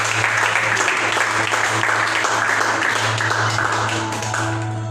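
A church congregation applauds the Lord together, a steady wash of dense clapping that runs the full length without pause, with a low steady hum beneath and a faint voice mixed in.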